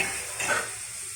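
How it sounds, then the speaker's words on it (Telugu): A glass of water goes into a pot of fenugreek (methi) rasam, a brief close sizzle and swirl of liquid as it hits the hot pan, fairly quiet and without talk. "ఇందులో నేను 1 గ్లాస్ నీళ్ళు కలుపుతున్నాను."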